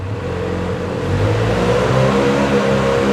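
A 2020 Benelli Leoncino 500 Trail motorcycle with its original exhaust revs up from idle, the engine note rising loud and smooth and holding a higher pitch close by, with no voices.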